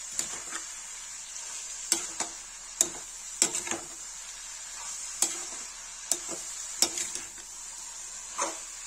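Fenugreek leaves and potatoes being stirred in a pan for Kashmiri methi aloo sabzi, with sharp spatula knocks at irregular intervals over a faint, steady sizzle.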